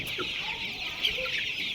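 Tiger chickens clucking nearby, a few soft short clucks over a steady high hiss of background noise, no one talking.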